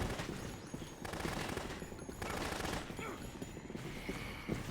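Sustained automatic gunfire from Carlito shooting in the food court in the Dead Rising video game, a continuous rattling burst of shots running throughout with dense, steady intensity.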